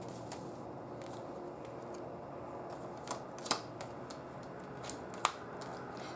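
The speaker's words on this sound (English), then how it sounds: "Let's pull some cards here." Playing cards riffled and pulled from a deck, a soft papery rustle with a few sharp flicks and snaps standing out near the middle and end, quiet and close.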